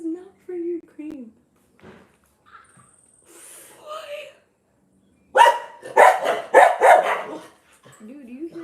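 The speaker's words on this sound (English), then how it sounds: "do you hear these dogs barking at me for food right now?" Several dogs bark for food in a kitchen, with a burst of loud, close, rapid barks and yips following quieter sounds and talking.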